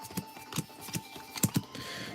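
Pokemon trading cards shuffled by hand at a card shop during a live stream, a run of quick, crisp riffling taps in irregular bursts up close, with no talk.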